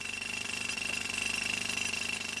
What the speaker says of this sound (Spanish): El polvo de los martillos neumáticos recubre la cara y el cuerpo de los mineros